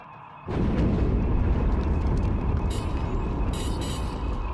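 Starship omni cannons fire during a space battle near a capital ship in Star Wars: The Old Republic. The sound is a sudden loud, rumbling roar that holds steady, with bright crackling bursts laid over it.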